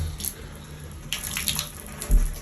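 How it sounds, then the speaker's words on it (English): Water runs from a tap in a bathroom during a home inspection in France, a close, steady hiss with faint knocks and a brief thump near the end. "We'll run water here."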